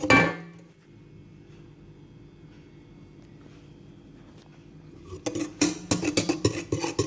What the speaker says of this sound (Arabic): من بعد كنزيدوا كاس الزيت وكنكملوا غير بالطراب اليدوي.